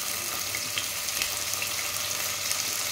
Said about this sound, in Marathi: आपण आपल्या भाज्या यामध्ये फ्राय करून घेऊया